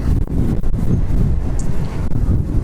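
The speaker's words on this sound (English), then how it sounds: "Wow, that wind is pretty strong." Strong wind buffets an outdoor microphone during a ride, making a loud, continuous rumbling gusty roar with uneven surges and no one talking.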